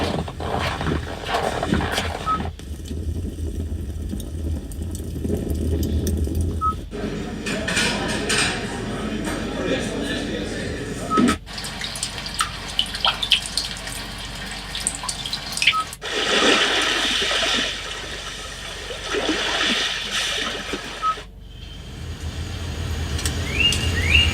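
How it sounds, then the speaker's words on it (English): Ambient soundscapes come from the built-in sound system of a 2021 Hyundai Veloster N. Several distinct watery, flowing scenes play in turn, each cutting abruptly to the next, and all sound steady and moderately loud, with no talking. "let me let you listen to these different ambient sounds that now come standard on the 2021 Veloster N."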